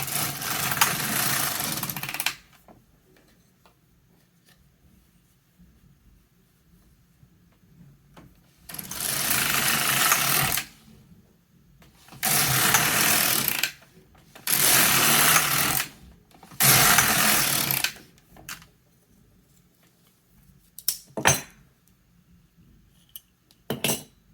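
A knitting machine carriage sweeping across the bed while knitting a pocket with waste yarn, heard as several loud, close, dense metallic rattling passes of about two seconds each, separated by quiet pauses and a few sharp clicks.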